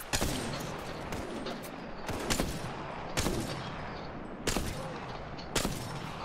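Video game gunfire crackles in a dense, continuous barrage, with several louder bursts standing out at irregular intervals over a constant roar of shots and noise.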